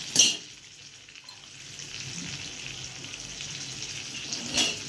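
Tempering spices sizzle in hot oil for a Gujarati stuffed brinjal and potato curry, a steady low crackle with a couple of sharper bursts at the start and end, no talking.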